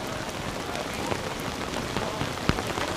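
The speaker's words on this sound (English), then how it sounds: "I hope you can hear the rain, just so you get some idea of how hard it is actually raining on these teams" Heavy rain pelts a canoe polo venue at a world championship match in a dense, constant hiss of drops hitting surfaces. One sharper splash stands out, and the rain is loud and close, with no clear talk over it.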